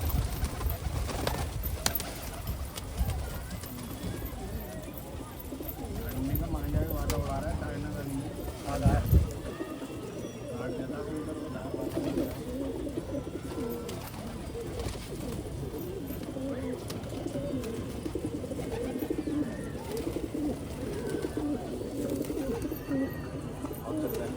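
A flock of pigeons coos softly in a crowded pigeon-keeping area, low murmuring calls layered under near-constant talking and shouting voices, with occasional wing flaps and scuffling.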